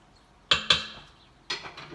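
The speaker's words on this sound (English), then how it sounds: "And then I stir it up, just kind of get it all together." A spoon scrapes and clinks against a pot while rinsed beans are stirred, giving two quick close knocks followed by a third after a short pause, with no talk.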